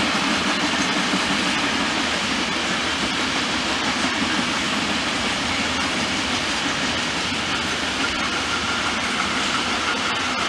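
A freight train rolls through Gemünden carrying only a handful of containers, with most wagons empty. A continuous, fairly loud roar of wheels and wagons sounds from start to finish without any break.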